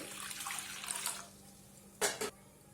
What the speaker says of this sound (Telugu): పాన్ పెట్టుకొని అందులోకి మనము 1 గ్లాస్ వాటర్ వేసుకుందామండి.